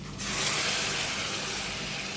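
Nut paste frying in a pan together with fried onion paste, giving a steady, fairly loud hiss and sizzle that rises after a brief quieter start and holds for the rest of the clip, with no talk.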